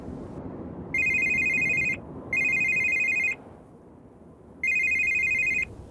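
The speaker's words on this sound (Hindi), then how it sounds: "इस आदमी के मोबाइल पे कॉल आया है।" A mobile phone rings with an incoming call, its bright ringtone sounding in three bursts about a second long with short gaps, over a low background hum.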